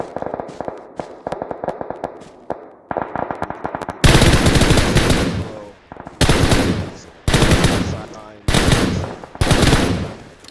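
Automatic gunfire sprays in a Clatter of Clans grand final video game match, loud bursts repeating in several long volleys after a stretch of quicker, quieter shots, with no talk over it.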